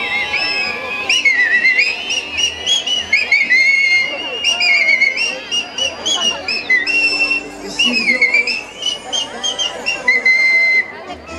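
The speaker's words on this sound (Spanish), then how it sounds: "¡Vamos a chiflarla entre todos" A crowd at a village fiesta whistles a tune together, shrill melodic whistling carrying the melody loudly and continuously over background crowd chatter and babble.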